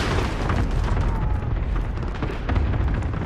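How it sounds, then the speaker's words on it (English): A cruise missile exploding in Modern Warfare, a heavy, loud, close rumbling blast that booms continuously through the short stretch with layered crackling debris. "Enemy cruise missile incoming."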